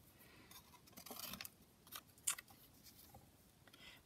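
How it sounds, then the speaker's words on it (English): Scissors snip paper while a small rosebud shape is cut out for a sheet-music collage, a few quiet, close crisp cuts spread over a soft background. "I just now quickly cut out another little rosebud"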